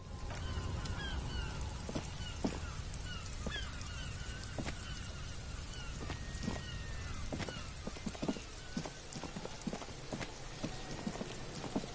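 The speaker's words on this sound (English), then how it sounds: "It's raining." Steady rain patters all around with scattered drips and taps on nearby surfaces, soft and continuous, with faint birdsong in the distance.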